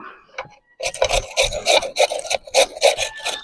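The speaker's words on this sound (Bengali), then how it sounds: "প্রথমে আলুটা গ্রেট করে নেব।" Potatoes are grated by hand in a home kitchen: a faint knock, then a run of rhythmic rasping scrapes, loud and close, with no speech.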